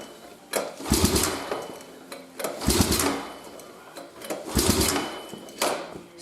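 An old quad or mower engine cranks repeatedly without catching, fuel bowl not filling, in four loud, rough bursts of a second or so separated by short pauses.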